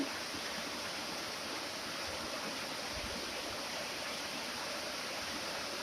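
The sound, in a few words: heavy rain on a farm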